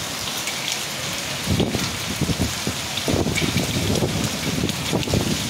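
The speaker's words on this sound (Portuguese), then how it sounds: "Deus trouxe essa chuvinha abençoada. Veio de pedra, mas não veio muito forte." A hailstorm in Cunha, São Paulo, brings a dense wash of rain with irregular clattering impacts of hailstones, steady and fairly close, with no talk.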